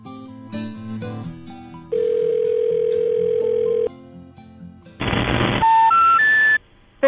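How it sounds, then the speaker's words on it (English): A telephone number-not-in-service intercept: three rising tones follow a steady held tone and busy dialing sounds, loud and alone with no talk over them. "The number you dialed is not in service."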